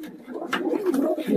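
A Murshidabadi pigeon coos in short, soft, throaty phrases close by, with a brief pause midway and no talk over it.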